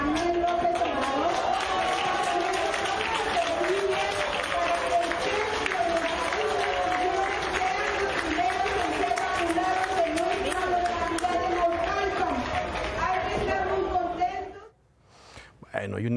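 Applause and crowd noise for President López Obrador at a rally, layered with loud voices and chanting throughout, then cutting off abruptly near the end.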